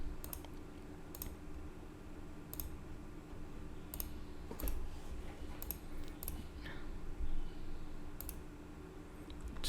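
A computer mouse clicks during a Windows 11 installation in VMware Workstation: sharp, faint single clicks spaced irregularly over a quiet room hum.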